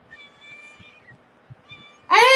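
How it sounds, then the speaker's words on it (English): A cat meows: a faint drawn-out mew early on, then a loud, close, wailing meow at the end. "Say hello to the cat."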